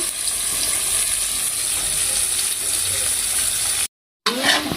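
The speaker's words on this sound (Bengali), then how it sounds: "পেঁয়াজগুলো ভালো করে লাল লাল করে ভেজে নেব" Onions frying in a pan for a spiced pulao and chilli chicken recipe, a steady close sizzle with hissing crackle that runs unbroken, cuts out briefly near the end, then returns.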